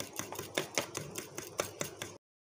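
Eggs and sugar being beaten by hand in a bowl for a cake, a quick regular series of sharp whisk taps against the bowl, about a dozen strokes, close and clear before stopping abruptly.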